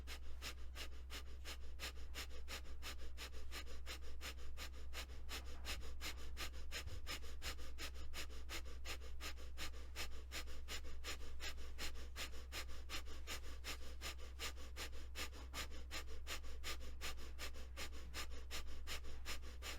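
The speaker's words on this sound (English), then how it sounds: "And then we're going to begin the breath of fire." Breath of fire, a rapid rhythmic breathing exercise with eyes closed and arms raised, heard as a fast, even stream of short sharp nasal exhalations continuing steadily throughout, close and moderately loud with no talking.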